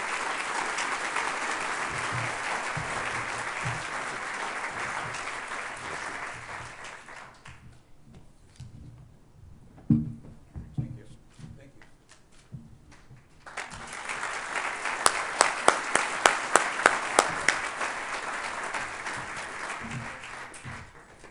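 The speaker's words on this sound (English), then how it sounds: "Let's give President Frank a big hand of encouragement" An awards-evening audience applauds the university president, a dense, sustained wash of clapping that thins to scattered claps midway, then swells again, with a few sharper individual claps standing out near the end.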